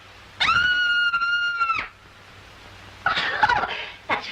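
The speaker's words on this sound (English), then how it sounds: "I'm so nervous I could scream." A woman in an old B movie lets out one shrill, sustained scream lasting about a second and a half. Brief noisy bursts of commotion follow after a short gap.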